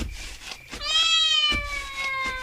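Cat meowing, one drawn-out wavering cry that rises and trails off, close and fairly loud after a few faint background noises, with no talking over it.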